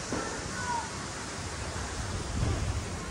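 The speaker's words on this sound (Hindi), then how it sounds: "कभी कई बार तो बहुत तेज़ हवाएं चल रही है और अभी थोड़ा सा हवा शांत हुआ है लेकिन इतना शांत नहीं हुआ है" Strong wind blows through trees outdoors, a steady, loud rushing roar with gusty swells and no pause.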